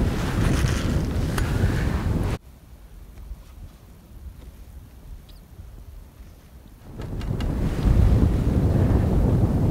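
A coastal breeze buffets the microphone at the shore in strong, rumbling gusts. It drops to a quieter lull for several seconds, then surges again, and no voices are heard.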